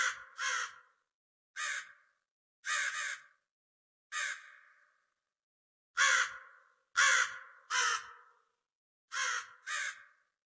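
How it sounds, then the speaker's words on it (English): Crows caw in a dark video game ambience, loud and close, in short double and single calls with silent gaps between them, fairly dry and alone. "First I added crow sounds that are getting played in random intervals in the background."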